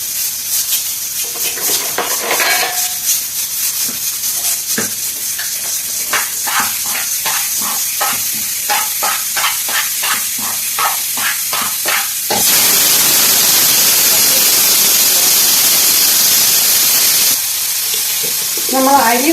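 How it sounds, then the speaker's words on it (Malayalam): Rice frying in two spoons of ghee in a pan gives a steady sizzling hiss with scattered stirring scrapes, then swells into a louder, dense hissing burst before easing back. "നമ്മൾ അരി ഫ്രൈ ചെയ്തുകൊണ്ടിരിക്കുകയാണ്"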